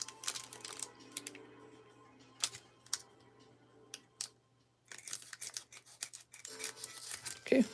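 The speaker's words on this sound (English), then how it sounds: "I do love trimming these packs." Scissors snip along the edge of a Topps Pokemon card pack in several crisp cuts separated by pauses, close and quiet, ending with a rustle of foil wrapper.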